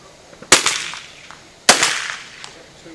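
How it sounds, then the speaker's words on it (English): Two sharp gunshots ring out about a second apart during target shooting, each loud and close with a short echoing tail. "as you're shooting Madison's target"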